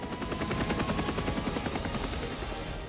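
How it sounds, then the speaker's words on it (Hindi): An Indian Navy helicopter flies during the Exercise MILAN drill at Visakhapatnam, its steady rotor thrum and engine roar filling the air continuously at a moderate distance. "उसके लिए ये जबरदस्त हेलीकॉप्टर तैनात है"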